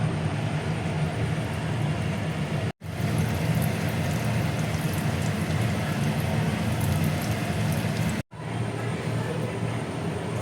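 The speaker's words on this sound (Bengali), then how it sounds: "এবার দেখো তেলের মধ্যে আমি এক এক করে ছেড়ে দেবো।" Paneer pakoras fry in hot oil over a medium flame, giving a steady, dense crackling hiss that continues evenly throughout, broken by two brief dropouts.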